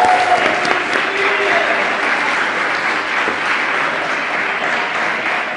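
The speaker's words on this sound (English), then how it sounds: "Big round of applause for those guys, please." An audience at a student union officer hustings claps for the broadcasters in a sustained, loud, even round of applause that carries through without a break, with faint voices underneath.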